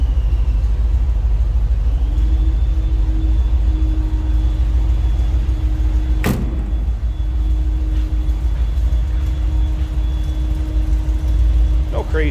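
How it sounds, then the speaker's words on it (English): A 1937 Chevrolet 2-door Touring Sedan street rod idling, its exhaust a deep, steady low rumble heard close and loud throughout, with a single sharp knock partway through. "crazy exhaust, just a nice rumble coming out of that"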